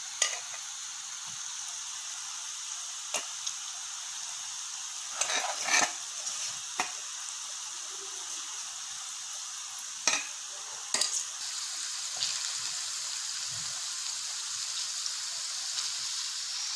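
Okra (bhendi) frying in hot oil makes a steady, close, bright sizzle, broken by occasional sharp pops and spatters and a few soft stirring clinks, with no voices.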